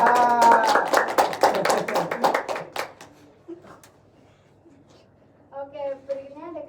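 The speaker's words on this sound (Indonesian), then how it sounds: "Tepuk tangan buat Mbak Aisyah." A classroom of children claps for a classmate, Mbak Aisyah, in a quick burst of many hands that lasts under three seconds and then stops, followed by a voice speaking.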